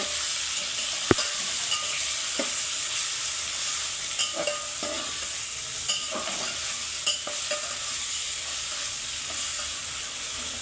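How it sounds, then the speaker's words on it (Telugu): Paste of ginger, coriander, garlic and mint frying in a pan, a steady close sizzle and hiss with occasional scraping stirs and light clicks throughout. "ఇది బాగా వేగిపోవాలి"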